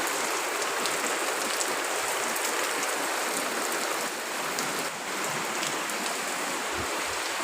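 Heavy rain falls without pause, a constant loud hiss of drops pattering on surfaces, briefly easing for a moment before returning.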